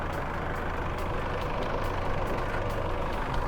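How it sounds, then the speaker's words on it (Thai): A 2013 Isuzu MU-X with the 3.0 DDI VGS Turbo diesel engine idles close by, giving a steady, even low rumble and broadband hum that stays at a constant level throughout. "นั่นก็คือเครื่องยนต์ของ Isuzu DDI VGS Turbo 3000นั่นเอง"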